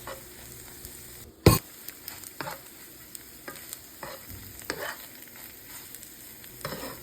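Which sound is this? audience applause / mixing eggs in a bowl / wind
mixing eggs in a bowl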